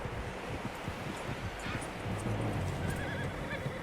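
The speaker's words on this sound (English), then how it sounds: "Horses, quite a few of them." Several horses whinny in the Red Dead Redemption 2 video game, shrill neighs rising over a soft bed of wind and hoof noise, moderately distant.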